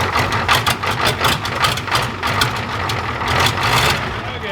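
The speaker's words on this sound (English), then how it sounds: "I hope this starter works." A turbocharged Ford F350 IDI diesel with an open header fires up and settles into a loud, rough, throbbing idle, heavy low pulses continuing steadily close by.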